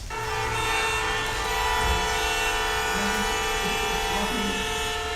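City sound effect for a stage play, built around a train: a continuous loud rail rumble with a sustained horn-like tone running throughout, steady and close, with faint background voices.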